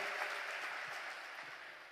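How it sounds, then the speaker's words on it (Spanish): A church congregation claps together during an evening service, a soft, even patter of many hands heard from a distance for a couple of seconds. "Démosle un fuerte aplauso al Señor en esta noche."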